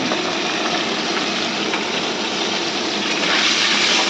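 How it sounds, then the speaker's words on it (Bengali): Puti fish frying in hot salted oil in a home kitchen, with greens cooking alongside: a steady, dense sizzle that stays close and even throughout, without any talking. "এবার পুঁটি মাছটা ভাজছি, আর এই পাশে শাক হচ্ছে।"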